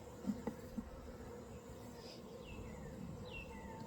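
Bees swarm around an outdoor beehive, giving a low, continuous buzzing hum at a fairly faint level, with a few soft knocks near the start and occasional thin tones overhead.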